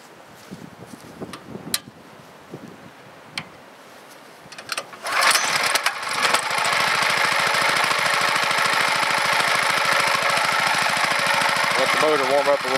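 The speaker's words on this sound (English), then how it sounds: "Motor warm up a little bit. That's with no load on it." An induction motor generator runs with no load. After a few seconds of clicks and handling noise, it starts with a loud, steady droning hum that holds for the rest of the clip.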